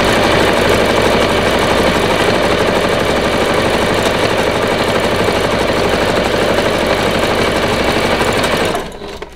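Sewing machine stitching down the edge of a hang towel, a fast steady mechanical whir with rapid needle clatter, loud and close, running continuously before stopping abruptly at the end.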